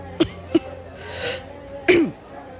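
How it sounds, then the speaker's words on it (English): A person coughs a few times, with two short sharp coughs followed by a longer, throatier one, close and fairly loud over a low room hum. "That cough isn't getting any better."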